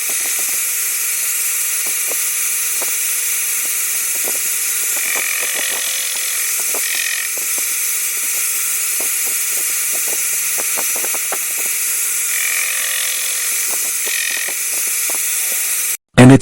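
A machine cutting the teeth of a bevel (miter) gear in a parallel-depth setup, producing a steady high-pitched mechanical whine with rapid irregular ticking and cutting clicks throughout, ending in a sudden loud burst.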